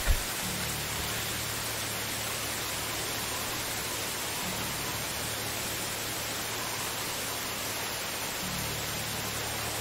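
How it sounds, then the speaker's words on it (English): Loud, steady rain pours in a medieval village in the survival game Medieval Dynasty, a dense hiss that continues without pause throughout. "Oh my god, this rain is loud."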